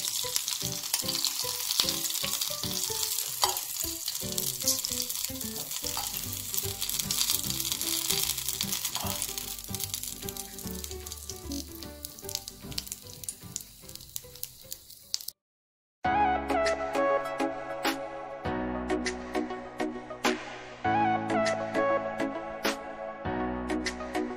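A tadka of hot oil crackles and sizzles over khaman dhokla in a dense spattering hiss that cuts off briefly, then returns as sharper, scattered pops, close by with no talking.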